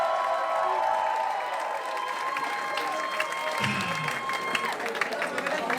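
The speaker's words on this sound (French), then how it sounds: "On l'applaudit bien fort, s'il vous plaît" An audience claps for drag performer Misty Phoenix at a drag competition finale, a steady wash of applause with scattered cheers, while a voice talks over it.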